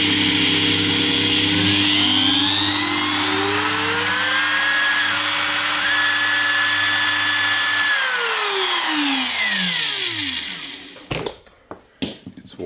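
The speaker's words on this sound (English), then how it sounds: "We can try to turn the grinder on." Makita 9565CVR corded angle grinder with a new armature and brushes spins up on the bench, a loud steady high whine rising in pitch, holding, then winding down after about ten seconds before clicks and handling noises.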